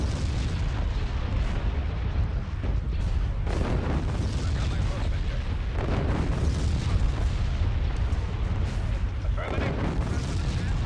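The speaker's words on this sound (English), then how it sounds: "Open fire on those laser cannons." Space battle in Star Wars: Empire at War with the Awakening of the Rebellion mod, Alliance side, with laser cannons firing: a dense, continuous roar of booming blasts and explosions throughout, with voices talking over it.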